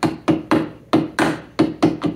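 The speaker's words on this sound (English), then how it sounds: "I'm just going to take the hammer, give it a light tap back, and I'll just tap that pin area over a bit" Hammer lightly tapping a pin on the convertible top frame of a 1987 VW MK1 Cabriolet, a series of about nine sharp, fairly loud knocks in an uneven rhythm, close by with no talk.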